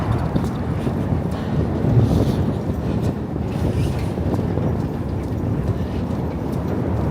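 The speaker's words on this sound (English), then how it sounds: "It's quite windy now, too." Strong winter wind buffets the microphone on a New York bridge, a constant loud roaring rush with no breaks, close and dominant throughout.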